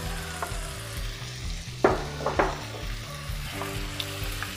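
Cauliflower florets frying in a hot pan give a continuous bright sizzle, with a couple of sharp utensil knocks and stirring scrapes near the middle and no talking.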